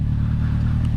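A Honda CB1100 inline-four motorcycle engine hums loud and close in a steady, deep rumble, a brief unbroken burst with no voices.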